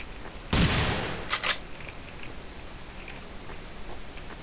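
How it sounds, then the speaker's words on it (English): Gunfire in the Hidden: Source video game: one sharp, loud shot with a short decaying tail, then two quick shots in close succession, followed by quiet background noise. "Why are you shooting over here?"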